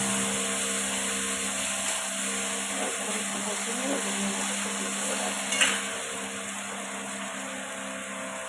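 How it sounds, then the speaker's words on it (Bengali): Ginger, garlic and chili spice paste fries steadily in a pan for ghugni, a soft continuous sizzle with light stirring and a brief louder scrape near the end. "অল্প করে একটু মশলাটা কষিয়ে নিল"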